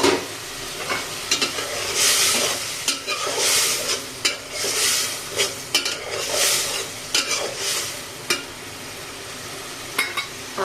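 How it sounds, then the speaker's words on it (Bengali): Catfish with potato and tomato frying in a pan, a continuous sizzle broken by repeated scraping strokes of a spoon stirring through the mixture, close up with no talking. "এটাকে আমি নেড়ে চেড়ে ভালো করে কষিয়ে নিব।"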